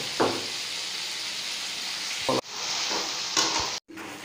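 Meat sizzling and frying in a hot pan with a spoon stirring it, a steady bright hiss broken by a few scraping knocks and one brief silent gap, close and fairly loud.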